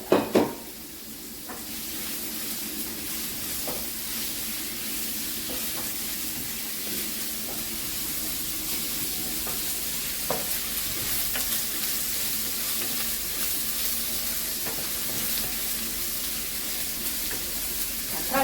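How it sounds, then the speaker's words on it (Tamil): Tomatoes and onions sautéing in hot oil for a spicy chicken curry, a constant soft sizzle with a few loud clatters at the start and occasional light stirring taps, no voices. "பழம் கொஞ்சம் வதங்க விடணும் எண்ணெயில்"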